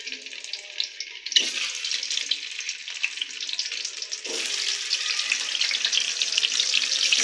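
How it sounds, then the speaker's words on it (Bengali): Steady crackling sizzle of eggs frying in hot oil, loud and continuous, with a brief scrape of stirring partway through. "ভেজে নিব ডিমটা এখন ডিম একটু উল্টেই পাল্টেই ভেজে নিব"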